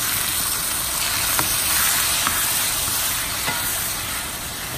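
Clams sautéing with garlic in a hot pan, a steady loud sizzle and hiss throughout, with a few faint clicks of stirring over the constant frying noise.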